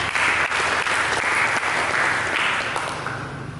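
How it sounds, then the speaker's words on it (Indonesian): Sustained applause from a church congregation during an Indonesian sermon, loud and steady broadband clapping that fades slightly toward the end. "Berikan tepuk tangan"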